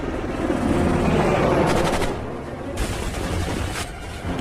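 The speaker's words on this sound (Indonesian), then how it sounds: "sebuah heli datang lalu tiba-tiba kemudian menghujani mereka dengan tembakan" Rapid bursts of automatic gunfire from a helicopter crackle over a low, continuous rotor drone, with short breaks between volleys.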